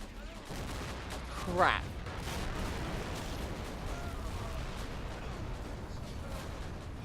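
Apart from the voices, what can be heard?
WW1 artillery fire in a video game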